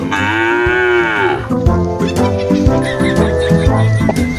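A cow being looked over in cattle dealing lets out a long, loud, close moo, followed by further deep lowing.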